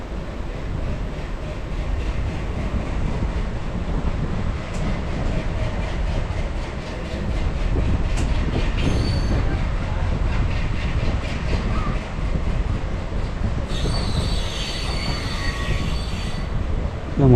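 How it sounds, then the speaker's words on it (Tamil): On an Indian Railways line between Kollam and Sengottai, a Madurai–Guruvayur train passes in the opposite direction, a loud continuous rush of wheels and rail noise heard close from a moving train, with a brief high squeal near the end. "இப்போ இந்த ட்ரெயின் வந்து ஆப்போசிட்டில் வர ட்ரெயின் வந்து மதுரையிலேருந்து குருவாயூர் போயிட்டுருக்கு."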